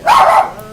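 A single dog bark, close and fairly loud, fading quickly into quiet.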